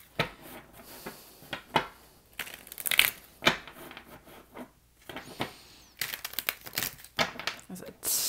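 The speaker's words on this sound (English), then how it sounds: "That's a terrible shuffle." Tarot cards shuffled by hand in a card-reading session, giving a run of close, crisp riffling and slapping bursts with short pauses between them.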